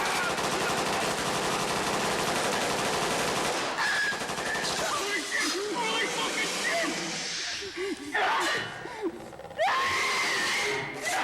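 Rapid machine-gun fire rattles loudly through a video game scene, dense and continuous at first, then breaking into scattered shots and bursts amid hissing effects and a voice speaking.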